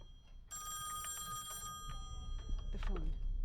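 A telephone rings inside the horror video game Song of Horror, a loud, bright electronic bell burst heard close, followed by faint game noises and low rumbling.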